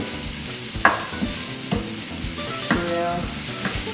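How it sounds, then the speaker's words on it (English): Vegetables sauteing in olive oil in a pan, with a steady sizzle broken by several clattering stirs and scrapes at irregular intervals, close and moderately loud. "we're going to saute it just like the way they do"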